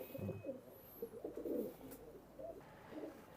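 Soft, low pigeon cooing repeats in gentle murmuring phrases, quiet and steady.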